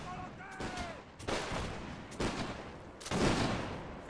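A line of musketeers fires volleys in a Napoleonic-era line battle video game, with three loud, booming, crackling bursts about a second apart, following a brief shouted command.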